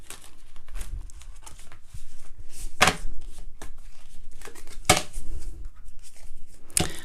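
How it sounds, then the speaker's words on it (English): Tarot cards being shuffled and drawn from a deck, giving soft papery riffles and sharp flicks. A few crisp snaps stand out over quiet rustling, close by, with no voice. "I'm going to pull a few more cards."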